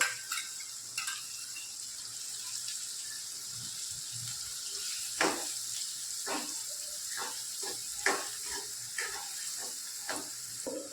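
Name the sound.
onion added to frying pan, sizzling and stirring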